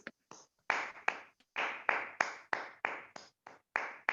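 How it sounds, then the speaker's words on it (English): A few people clap at an online Toastmasters meeting, sounding as sparse, distinct, evenly spaced claps, roughly a dozen sharp hits with small gaps between them, fairly faint and with no talk over them. "Let us unmute and give Toastmaster Sujata a good round of applause"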